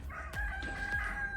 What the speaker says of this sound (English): Kind of late in the day for the roosters to be roostering.